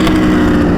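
A BMW S1000RR motorcycle engine roars loud and steady at high throughput for under a second, a dense close-up drone with no talk.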